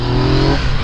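A new motorcycle engine revs hard while accelerating, a loud, close, continuous growl that climbs and then roughens toward the end.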